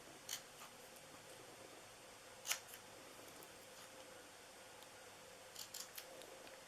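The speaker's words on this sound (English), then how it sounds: "These big scissors are not good for doing the flagging." Big scissors trim and flag card, a few faint crisp snips scattered over quiet background hiss.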